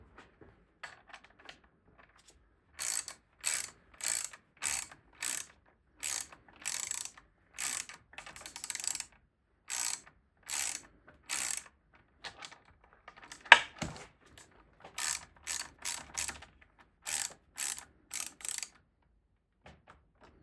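Someone works a ratchet to tighten spacers on a 1977 Johnson 9.9hp outboard motor. It gives close, crisp bursts of rapid clicking in repeated strokes with short pauses between them and one sharp clank partway through.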